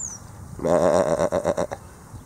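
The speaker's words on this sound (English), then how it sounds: "Hello, sheep." A single close, loud sheep bleat, a wavering nasal cry lasting about a second after a brief quiet start.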